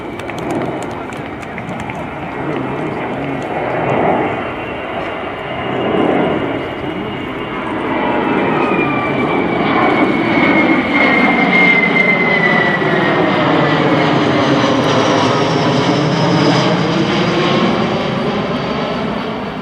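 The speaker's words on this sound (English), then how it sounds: "a very welcome first opportunity in the Air Tattoo flying display to see from Embraer the KC-390 Millennium." An Embraer KC-390 Millennium transport jet performs a flying display at the Royal International Air Tattoo, its loud, steady turbofan roar building and sweeping past with a shifting whine while a commentator talks over it.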